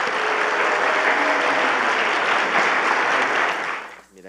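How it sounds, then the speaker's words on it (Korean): A church congregation applauding and cheering for a graduating discipleship class, sustained loud clapping that fades out near the end. "우리 인사할 때 가장 뜨거운 또 박수와 환호로 축하해 주시면 하겠습니다"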